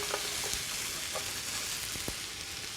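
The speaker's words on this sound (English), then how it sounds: "I am going to get the onions in here now." Onions hit a hot pan and sizzle in a steady, even hiss, with a few soft clicks of a utensil, fairly quiet and continuous.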